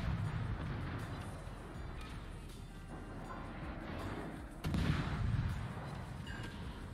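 Naval guns fire in a ship combat video game, a dense rumbling barrage with a sharper, louder blast about two-thirds of the way through, all under a continuous low roar.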